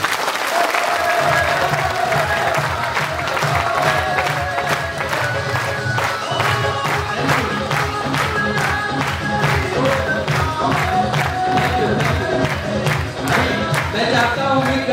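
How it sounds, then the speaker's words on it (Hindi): Audience at a motivational talk applauding, a dense, loud, sustained roll of clapping from a large crowd with scattered cheers and whoops throughout. "उनके लिए भी बजाइए तालियां।"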